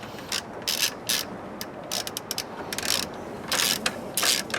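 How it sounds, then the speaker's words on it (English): A ratchet wrench clicks in short bursts while loosening the belt tensioning bolt on the power steering bracket of a 1996 Jeep Sport, close and crisp with brief pauses between strokes. "Looks like there's a tensioning bolt in this power steering bracket. I'm going to back it off and see if we lose tension on here."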